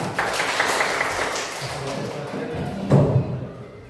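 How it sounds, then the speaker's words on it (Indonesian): A classroom group claps together after a presentation, a dense, steady patter of hands that continues throughout, with a few duller thumps near the end. "Kita berikan tepuk tangan."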